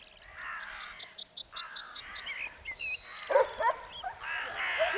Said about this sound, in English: Crows are among the first visitors after the shots.